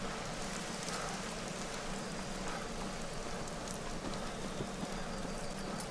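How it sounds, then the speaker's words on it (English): Steady rain falls in the hunting video game Hunter Call of the Wild, a dense, even hiss of drops on surfaces that holds unbroken throughout without any voices. "Just rain after rainstorm after rainstorm."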